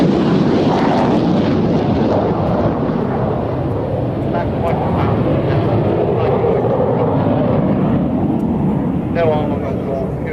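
A Canberra jet bomber passes at an air show with a loud, continuous broadband roar and rumble mixed with heavy wind buffeting, steady throughout and sounding near.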